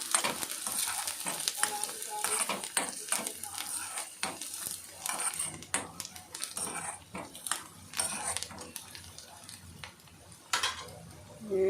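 Onions frying in a pan for mushroom iguru, with a continuous sizzle and frequent small clinks and scrapes of a utensil against the pan.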